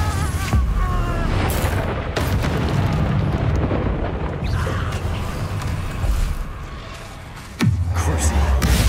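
Confringo spell blasts in Hogwarts Legacy combat: loud, booming fiery bursts layered over dense battle noise, with a sharp new explosion erupting near the end after a brief lull.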